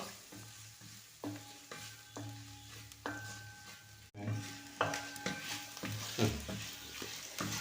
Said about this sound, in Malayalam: പച്ചമുളക് കൂടി ചേർത്ത് കൊടുക്കുന്നുണ്ട് അതുമാത്രമല്ല അല്പം മഞ്ഞൾപ്പൊടി കൂടി ചേർത്ത് നന്നായി ഇളക്കിയെടുക്കുക